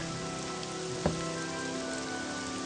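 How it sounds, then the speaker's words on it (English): Steady rain in the video game Morrowind, a constant dense hiss of drops falling on surfaces with no pauses, with one brief dull knock partway through and no talking. "Oh, get out of that terrible rain."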